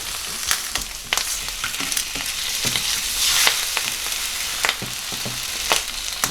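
An egg fries in a ring in a pan with a steady close sizzle, broken by several sharp scraping and tapping knocks as a spatula works under it and turns it over, with no one speaking.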